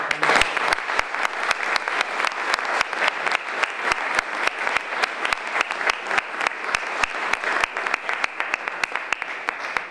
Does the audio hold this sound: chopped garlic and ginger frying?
no